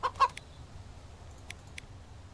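Chickens in the survival video game Mist Survival giving a few short, quiet clucks, two near the start and a couple more later, over faint low background noise.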